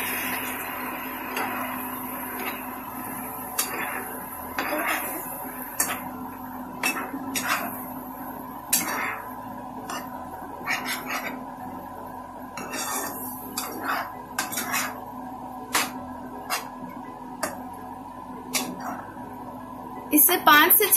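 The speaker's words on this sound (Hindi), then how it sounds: "इसमें अभी मैगी डालेंगे जो हमने बनाया था। फिर इसे मिक्स कर लेंगे" Maggi noodles being mixed into fried vegetables in a pan, repeated metallic scrapes and clinks of a spoon against the pan in an irregular rhythm, with a voice speaking over it throughout.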